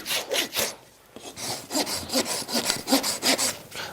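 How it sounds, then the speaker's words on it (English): A farrier's rasp files the lateral side of a dressage horse's hoof in quick, close, repeated scraping strokes, with a short pause after the first few and then a steady run of gritty rasps. "I'll only be taking just a few rasp strokes here"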